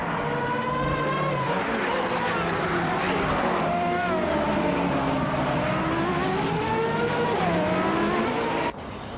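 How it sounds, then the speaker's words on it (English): A 1996 Alfa Romeo 155 TI V6 race car at speed, its engine wailing continuously with rising and falling pitch through gear changes and corners, loud and sustained, cutting off abruptly near the end. "25 is driving a 1996 Alfa Romeo 155 TIV 6 Tagishunchi."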